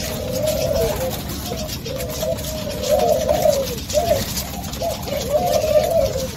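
Pigeons or doves cooing in repeated low, throaty phrases at close range, with a steady background hum and talking over the top.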